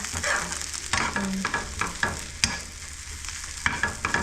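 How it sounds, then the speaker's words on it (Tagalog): Garlic and onion sauté in a pan with a soft continuous sizzle, interrupted by repeated sharp scrapes and clinks of a utensil stirring, with no talking. "igisa ko ito sa maraming bawang and then yung onion"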